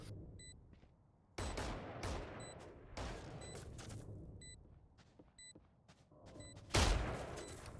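Gunfire from a Guardian rifle in Valorant during a competitive esports match: sharp single shots and short volleys spaced across several seconds, with one heavy blast near the end.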